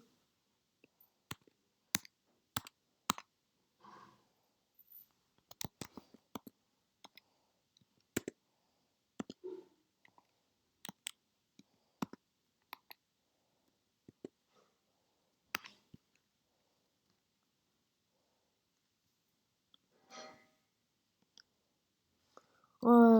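Scattered clicks of a computer keyboard being typed on in short, irregular bursts with pauses, quiet and close, plus a faint breath or murmur near the end.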